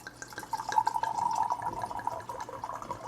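Tequila pours steadily into a glass, a soft trickling liquid stream close by that runs for a few seconds.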